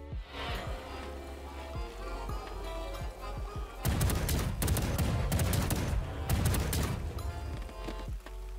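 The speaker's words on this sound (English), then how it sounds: "It's got audio, it's got a ghost, it's got cannons." In Cold War Zombies, the Ghost Ship Mastercraft weapon's inspect animation sets off ghostly cannons, firing dense volleys of booming shots in two bursts after a quieter opening, close and loud.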